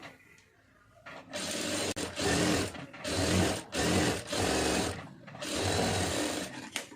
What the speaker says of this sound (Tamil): இப்போ இதை சுற்றி ஃபுல்லாக தையல் ஓட்டிடலாம்